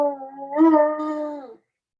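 A dog howls once by itself, a long, steady, tonal wail lasting about a second and a half that swells midway and then cuts off.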